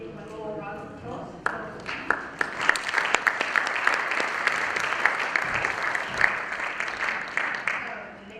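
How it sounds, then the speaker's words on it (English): A small conference-room audience at a sanitation session claps in a dense, even patter that starts abruptly and holds for several seconds before thinning out. "Then we have a little round of applause."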